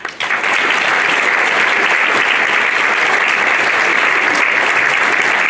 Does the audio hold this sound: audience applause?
yes